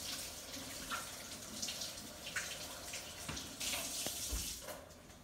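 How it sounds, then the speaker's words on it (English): Hands are rinsed under a running kitchen tap, a soft steady stream broken by faint splashes and rubbing, heard at a distance. "Let me wash my hands really quick."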